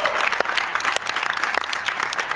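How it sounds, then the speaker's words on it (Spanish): Clapping from the audience of a live studio show, steady and fairly close, with no speech over it. "Hi ha una persona aplaudint."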